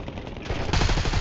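Rapid automatic gunfire in the Warzone video game, a dense burst of shots that grows louder and fuller partway through, with no talk over it.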